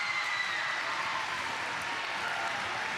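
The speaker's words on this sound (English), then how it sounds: "That one, I think, brings the Bulldog crowd to life." Home crowd at a Hampton-Dumont-CAL high school volleyball match against Clarion-Goldfield-Dows cheering and applauding, a steady wash of noise filling the gym throughout.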